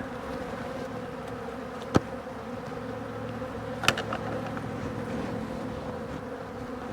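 Honeybees swarming around a beekeeper at an open hive during feeding, a soft, steady droning hum close by, broken by two sharp brief knocks.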